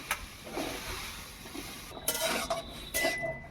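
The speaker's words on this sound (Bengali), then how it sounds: "আলুটা শুধু কড়াইয়ের মধ্যে একটু নাড়াচাড়া করে নেব।" Potatoes go into a dry wok with no oil and get stirred, giving faint scraping and clinking of a utensil against the pan in short irregular bursts, with no talking.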